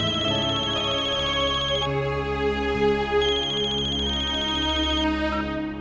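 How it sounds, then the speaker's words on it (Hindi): A phone ringtone plays loudly and continuously, a repeating electronic melody with bright ringing tones. "अक्षरा, मैं आप ही को फोन करने वाला था।"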